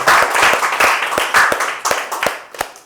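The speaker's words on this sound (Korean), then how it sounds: "이 박수 소리가 우람하잖아" A room full of people at a lecture gathering in Seoul clapping, loud and close, a dense burst of hand claps that thins out toward the end, with some voices mixed in.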